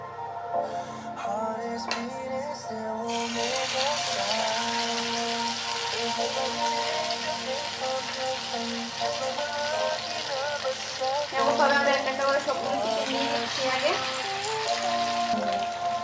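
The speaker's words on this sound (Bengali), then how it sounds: "তেলটা গরম হয়ে আসলে পরে আমরা এটার মধ্যে দিয়ে দিচ্ছি একটা একটা করে চিকেন" Chicken pieces for kebab go one at a time into hot white oil in a pan, setting off a steady broadband sizzle that keeps on under background music and a talking voice.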